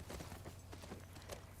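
Faint clip-clop of horse hooves walking in the video game The Last of Us Part II, a soft, quick patter of steps heard alone at low volume.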